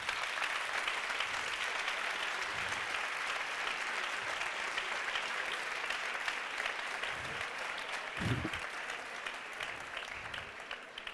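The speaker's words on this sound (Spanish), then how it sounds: "Muy bien, pues unos aplausos para Jano," Sustained applause from a seated audience for the speaker Jano at a talk, a steady wash of clapping lasting many seconds with a few low thumps underneath.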